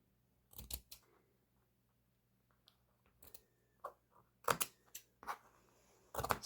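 Scissors cut and clip curves in fabric for a pajama top, giving a few sharp, close snips in small bursts separated by quiet pauses.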